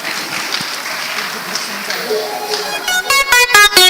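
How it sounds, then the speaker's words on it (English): Scattered audience clapping at a cultural event welcomes children about to dance, then fades as a music track kicks in with sharp, repeated synthetic beats and tones. "Let's welcome them with a huge round of applause."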